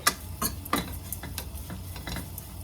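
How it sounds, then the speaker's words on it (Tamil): Bitter gourd being sautéed in chili powder in a pan gives scattered clinks and scrapes of a spoon against the pan with a faint background hiss, irregular and moderately quiet. "இதில் நல்லா அந்த மிளகாத்தூளில் நல்லா வதக்கிட்டு"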